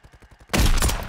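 Gunfire in Call of Duty: Warzone: a few light popping shots, then a sudden loud burst of rapid, sustained firing that fills the rest of the short moment.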